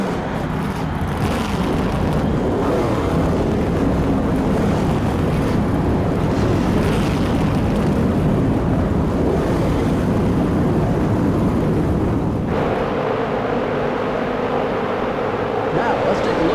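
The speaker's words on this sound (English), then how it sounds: "Gentlemen, start your engines." Race car engines in NASCAR Thunder 2003 on PS2, a full field fired up under the lights at Richmond: a loud, continuous roaring drone rising into a dense rumble, with the tone shifting sharply near the end.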